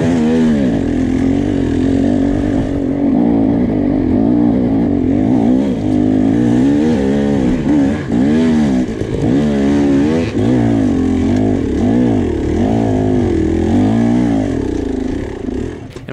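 Dirt bike engines, including a TM, race at the King of the Motos 2020 event: a loud, close, continuous engine drone with rising and falling revs as the throttle is worked and shifts come through.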